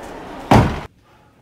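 A door slams shut once, a loud, abrupt bang that cuts off sharply and leaves near silence behind it.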